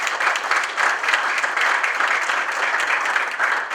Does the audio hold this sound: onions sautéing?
no